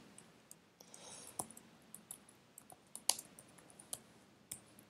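Keys clatter on a computer keyboard as code is edited, a run of close, sharp clicks in an irregular rhythm with a few louder taps standing out, no voices.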